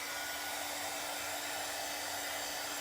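A hair dryer blowing on chalk paint over a wooden piece, a steady, even whirring hum with a constant motor tone, close and uninterrupted with no voices.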